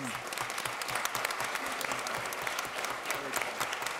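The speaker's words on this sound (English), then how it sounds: "Let's give him a round of applause." A meeting audience claps for a person thanked for his service, with dense, moderately loud applause running steadily throughout and faint voices mixed in underneath.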